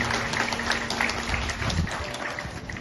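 Wedding guests applaud the pastor after the ceremony's message, a brief round of moderate clapping in a hall with faint background murmur.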